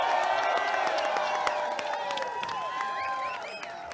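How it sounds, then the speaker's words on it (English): Crowd at a Denver election-night victory rally cheers and claps, a dense mix of whoops and shouts over steady applause, sounding somewhat distant and continuous for a few seconds. "a round of applause."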